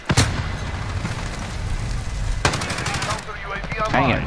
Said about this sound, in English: He got me with the grenade.